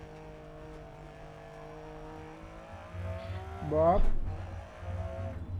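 A Lancia Stratos rally car spins out on a rallycross track in Dirt Rally 2.0, its engine droning steadily before a sharp rising rev and tire howl during the spin, then settling back; a voice briefly speaks.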